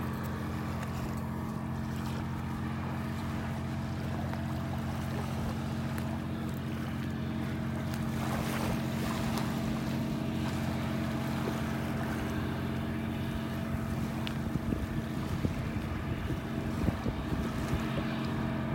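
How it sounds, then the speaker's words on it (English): A dredging barge's engine drones low and steady across the water at sunrise on a North Naples, Florida beach, distant but constant, with wind buffeting the microphone. "Nothing like the sound of a dredging barge to ruin the solitude of a sunrise."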